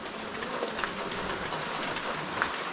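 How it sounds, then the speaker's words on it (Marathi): A light drizzle falls in a Konkan village during the rainy season, a soft, even hiss of rain that continues steadily throughout with no voices. "पाऊस असा काय मोठा नव्हे आहे पण रिमझिम रिमझिम तुम्ही भिजू शकता"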